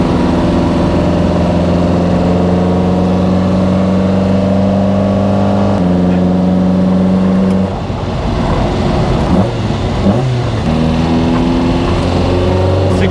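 A Lotus Exige S1 engine breathing through four throttle bodies behind a carbon intake, a steady loud idle hum with deep harmonic drone, then a rougher throttle blip and shifting tones toward the end, close and continuous.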